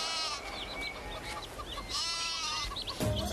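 A goat in a film comedy scene gives several short, wavering bleats, fairly close and clear over a quiet outdoor background, with no talking.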